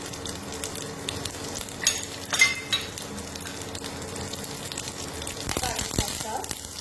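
Whole cumin seeds, with ginger and fenugreek, crackle and sizzle in hot oil in a pan on an induction cooker for Gujarati kadhi: a low, steady fry with sharper bursts of spitting.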